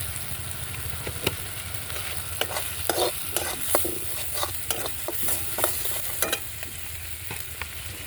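Turmeric and chili powder fry in hot oil in a pan with a steady sizzle, while a spatula stirs and scrapes in sharp, irregular clicks close by.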